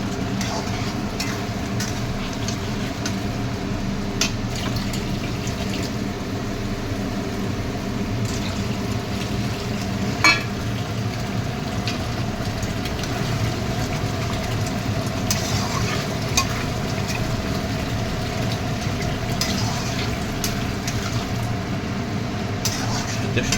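Chili chicken gravy simmering in a pan on a home stove, a steady low bubbling and faint sizzle that runs continuously with occasional soft clinks.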